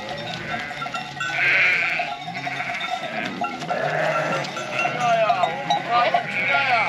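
A flock of sheep and lambs bleats outdoors in snow, with repeated bleats mixed with cowbell clinks and nearby voices talking over the animals.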